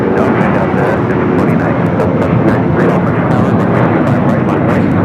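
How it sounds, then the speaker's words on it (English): An American Airlines Boeing 737-800 takes off from LAX runway 25 right on a flight to Chicago, a loud continuous jet roar that holds steady and fills the whole stretch, with a voice talking over it. "Another takeoff, 25 right."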